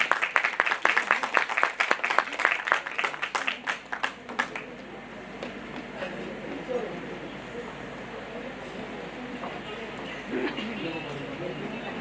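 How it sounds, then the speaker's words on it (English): An audience at a state-level beauty pageant fashion show in Karnataka claps loudly for about five seconds, then the applause fades into crowd murmur with a voice talking over it. "can we have a big round of applause?"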